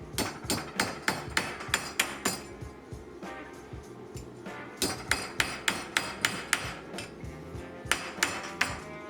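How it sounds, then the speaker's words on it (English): Repeated sharp metallic hammer blows in quick, steady bursts on a small copper bracelet, with brief pauses between runs. "we're just going to hammer the very first part"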